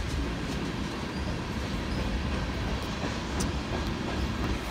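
A lone SD70ACe locomotive hauls a full-length oil train, its railcars rolling past in a dense, steady, loud rumble with faint wheel noise and no voices.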